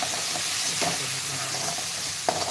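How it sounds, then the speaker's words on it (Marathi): Tomatoes go into a hot frying pan for a chicken curry in black gravy, giving a steady sizzle with a few short stirring scrapes and one sharper clack near the end, close by and free of speech. "आता यामध्ये टोमॅटो टाकून घेत आहे टोमॅटो टाकून"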